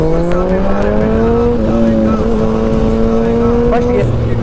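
High-revving motorcycle engines from a Hayabusa and a KTM Duke drag race, with rising and shifting whining tones held loud and close for several seconds, a voice speaking over the engines.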